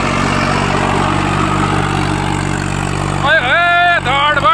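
A Swaraj 744 XT tractor with a rotavator runs steadily nearby, its diesel engine a continuous throbbing drone, with someone talking over it near the end.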